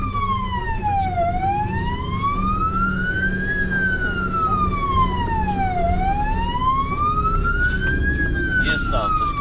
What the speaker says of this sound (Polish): Jest tam coś, karetka.